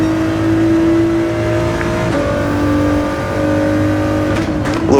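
Ford GT race car at Grand Valley in Gran Turismo 7, its engine holding a steady, loud drone with sustained harmonic tones that shift pitch through gear changes, rising sharply near the end as it revs.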